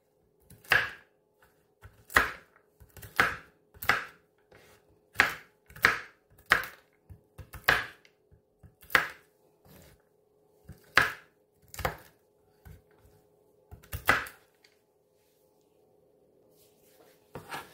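Nuts being roughly chopped on a board for cookies: a dozen or so sharp, separate knife knocks at an uneven rhythm, close and clear against a quiet room, no talking.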